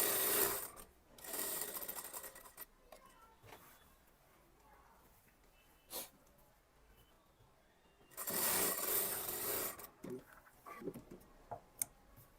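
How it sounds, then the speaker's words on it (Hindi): A sewing machine runs two loose basting bursts on a kurti to mark where a zip will go. Each burst is short and rapid, and both are separated by quieter handling noises and soft clicks. "पहले हम यहाँ पर ऐसे कच्चा सिलाई कर रहे हैं ताकि जिप लगाने के लिए यहाँ पर मार्किंग हो सके।"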